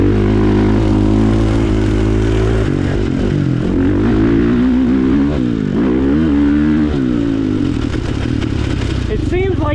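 A 2022 KTM 450 SX-F Factory Edition motocross bike revs on a dirt track, loud and close, its engine note rising and falling through repeated throttle blips with a harsh, buzzing tone.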